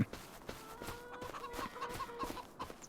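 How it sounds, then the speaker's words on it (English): Free-range chickens clucking in the Farming Simulator 25 game on an American farm, a soft, scattered series of short clucks and calls repeating at an uneven rhythm, faint and fairly close. "But we do have chickens over here as well."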